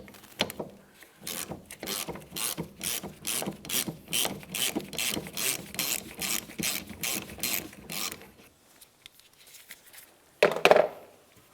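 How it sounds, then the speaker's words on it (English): A 13mm ratchet wrench clicks in a steady run of strokes as it removes the rear wiper arm mounting nut on a 2000–2006 Chevrolet Tahoe. It goes quiet after about eight seconds, then a brief louder clatter follows, close up. "it exposes the mounting nut. We'll use a 13mm to remove this."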